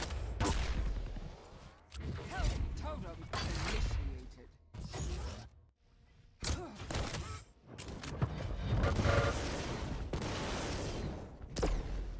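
Railgun shots and weapon fire in an arena shooter duel, sharp bursts separated by brief gaps, loud and close, with mechanical clanks between.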